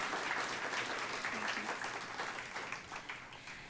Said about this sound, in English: Yeah, round of applause for Dr. Bains.